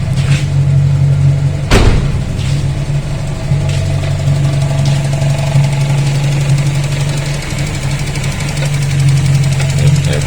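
A Toyota Corolla's engine idles steadily at high RPM with a low, rumbling exhaust drone, close by, with a couple of brief clicks near the start.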